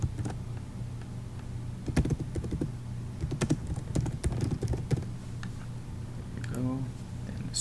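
Rapid, uneven keystrokes on a computer keyboard as a street address is typed into an app form, close and clear with bursts and pauses over a steady background hum.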